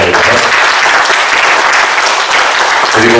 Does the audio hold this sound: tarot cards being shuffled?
no